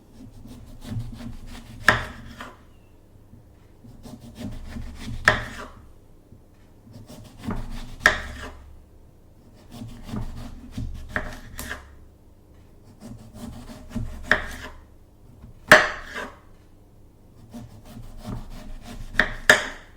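Knife slicing through a very thick vegetable on a wooden board in a whispered French kitchen, each cut a crisp woody crunch ending in a sharp knock on the board, repeating every few seconds, close and quiet with no talking.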